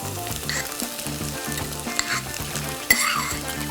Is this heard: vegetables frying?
yes